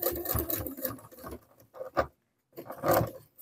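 A sewing machine stitches along tape on a quilted patchwork vest, running in close, whirring bursts with a short pause before another run.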